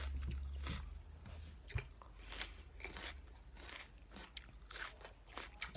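Close-up crunching and chewing of raw vegetables dipped in sauce, steady bites and mastication sounds repeating throughout with no talking.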